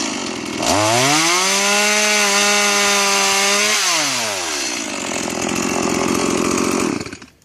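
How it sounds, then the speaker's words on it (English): A Stihl Easy Start 50cc chainsaw with a 16-inch bar roars up to full throttle and bites into wood, the engine note dipping under load then rising again, loud and close before cutting off abruptly, no voices. "A new Stihl Easy Start, 16-inch blade, 50cc cut, and gas and oil and all the trims to go along with it."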